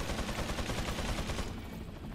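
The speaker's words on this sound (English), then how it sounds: "There's a guy on the ground that's also shooting me." Rapid gunfire from a Resident Evil 4 PC firefight rattles steadily for about a second and a half, dense and loud, then thins into a quieter ambient tail.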